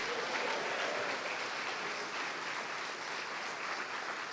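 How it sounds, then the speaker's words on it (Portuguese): Church congregation applauding during a sermon, a continuous, fairly distant wash of many hands clapping in a large hall, steady and somewhat muffled throughout. "Pode aplaudir e dar glória a Deus"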